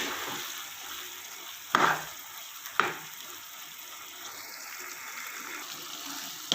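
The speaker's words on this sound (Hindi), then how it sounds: "मैंने ये पहले से बॉयल की हुई थी इसलिए भून रहे हैं" Boiled chana dal roasting in a pan, a steady soft sizzle and frying hiss running throughout, with a couple of sharp stirring clatters from a spoon along the way.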